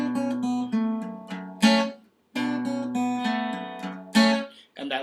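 A guitar plays a short song passage with tapped and plucked notes, ringing chords and sharp snapped accents, one brief pause in the middle, and a final snap note at the end.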